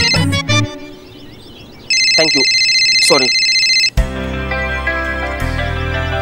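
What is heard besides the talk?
phone ringing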